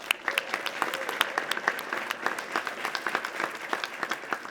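A Webflow Conf 2024 keynote audience applauds the conference sponsors with a steady, dense round of clapping from a large crowd, filling the hall evenly from start to finish with a faint voice underneath.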